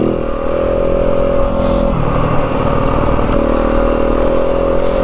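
A 2025 Yamaha WR250F dirt bike rides through the Dragoon Mountains near Pearce, Arizona, with a steady, loud engine drone held close throughout and a few brief rattles over the top.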